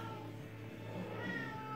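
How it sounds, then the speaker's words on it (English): A cat meows somewhere nearby inside a garage where a 1958 MGA is being restored, a faint drawn-out cry over low background hum. "there's a cat there somewhere."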